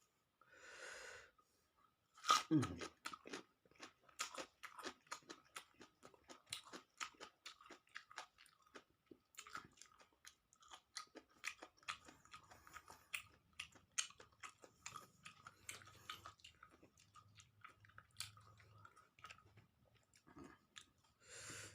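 Close, quiet chewing of steamed octopus dipped in spicy seafood sauce, with a steady run of small crunchy and sticky bites and occasional breaths over about twenty seconds.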